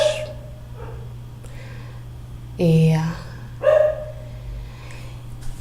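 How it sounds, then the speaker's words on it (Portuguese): A dog barks twice, a few seconds apart, fairly close, over a quiet background with a low steady hum. "bom esse cachorro latir"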